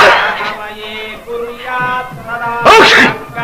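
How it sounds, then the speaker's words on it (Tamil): Someone with a head cold lets out a loud, close sneeze near the end, a sharp explosive burst that follows a stretch of tonal, sing-song voice sounds. "இது ஜலதோஷ தும்மல்"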